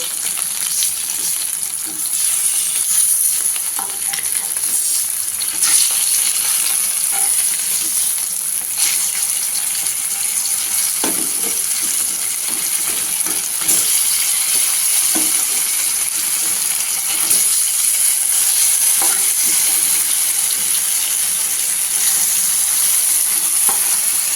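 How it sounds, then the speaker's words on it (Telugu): Fish frying in a pan gives off a loud, steady, close sizzle that carries on without a break. Faint clinks of a utensil are heard now and then. "చూడండి, ఇలా ఫ్రై అవుతూ ఉన్నాయి కదా."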